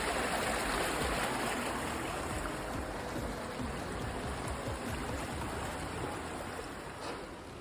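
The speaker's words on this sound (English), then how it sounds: "the middle of the street had a water channel throughout with a heavy water flow" Heavy water flows continuously close by in a channel down the middle of a street in Bern, Switzerland, a broad hiss with gurgling texture, no voices, fading slightly toward the end.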